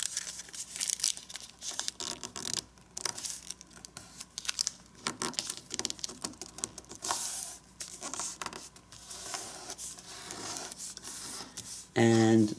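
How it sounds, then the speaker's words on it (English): Origami paper being folded edge to edge: close crinkling, creasing and rustling throughout, with a brief louder crackle at the end. "And now let's fold this edge to this edge."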